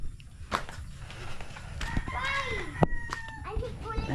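Backyard pet chickens clucking and calling in short, overlapping bursts nearby, with some sharp knocks and background noise, while a person talks in between.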